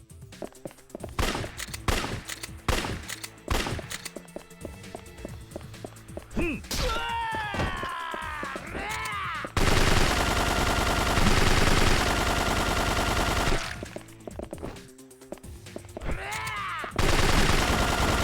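Gunfire from firearms in Yakuza 3 Remastered, set in a hospital: sharp shots and a dense sustained burst of automatic fire, with brief shouting and other game sounds mixed in.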